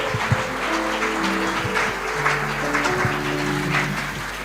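Congregation clapping during a church worship service, a dense steady patter of many hands filling the room over sustained keyboard or organ chords, with occasional shouts rising through the applause.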